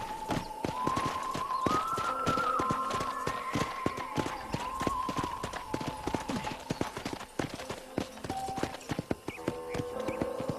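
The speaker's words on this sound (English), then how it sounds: "I picked out a fine horse for you." Clip-clop of horse hooves at a steady trot in the Red Dead Redemption video game, a clear rhythmic beat running the whole time under a melodic music score, with faint talk in the background.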